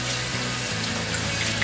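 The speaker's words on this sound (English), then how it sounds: "Just washing our hands because that's the real thing that you should do before actually cooking any food" A tap runs steadily into a sink while hands are washed before cooking, a constant close rush of water with faint splashing changes, no talking.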